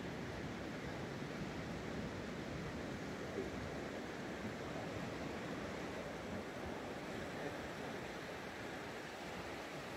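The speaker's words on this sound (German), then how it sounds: "Ganz flache Wellen haben wir heute wieder." Gentle, flat ocean waves wash onto a Gran Canaria shore, a steady broadband surf hiss with soft wind mixed in, continuous and even for the whole stretch with no voices.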